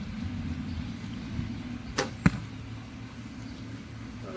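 A $6 arrow loosed from a bow, heard as a sharp release snap followed moments later by a distinct thud of impact, alone over low steady background rumble.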